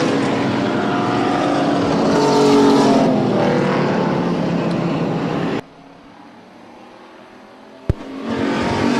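Race cars at a short-track oval event roar loudly for several seconds with a rising, broad engine drone, then cut abruptly to quiet with a sharp click before engine noise returns near the end.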